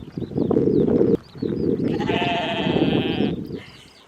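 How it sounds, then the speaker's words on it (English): Sheep grazing on an Irish coastal mountain trail in County Mayo bleat in one long, strained call near the listener, over heavy wind rumble and outdoor noise. "there's a few little sheep having their lunch already"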